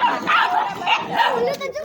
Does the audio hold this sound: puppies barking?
yes